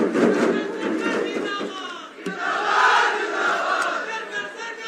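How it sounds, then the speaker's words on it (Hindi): Crowd at a government benefits event for an old age pension and housing scheme, a loud sustained roar of voices and shouting with cheering, nearby and continuous, with possible clapping mixed in. "जोरदार तालियां"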